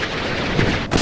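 Dense, continuous naval gunfire roars at close range in a Vietnam War-era naval combat game, with a sharp blast near the end of the short burst.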